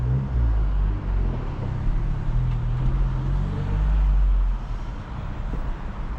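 A turbocharged, fully built 2022 Honda Civic Si with full bolt-ons and a tune cruising along, its low steady engine and road rumble droning continuously from inside the cabin, with no talk.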